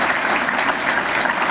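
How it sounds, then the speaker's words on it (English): An audience breaks into brief, dense applause, a loud continuous burst of clapping from a crowd. "You could applaud that if you want."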